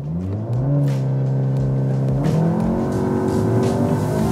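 A Cupra Ateca Limited Edition SUV's engine pulls hard on a test drive, its note climbing through the revs, dipping briefly at a gear change and then building again. It is loud and steady, with no voices.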